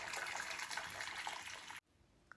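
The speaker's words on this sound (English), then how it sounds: "And you proceed to pour in the hot water." Hot water pours steadily into a bowl, making a close, continuous splashing rush that stops abruptly near the end and leaves quiet.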